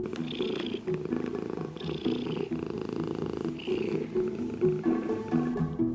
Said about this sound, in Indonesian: Suara puring pada kucing sangatlah khas dan sering kita dengar.